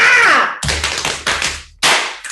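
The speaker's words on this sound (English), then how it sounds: "Clap, snap, snap." Sharp hand claps and finger snaps land in a steady repeating beat after a short vocal exclamation, close and fairly loud, with brief pauses between groups.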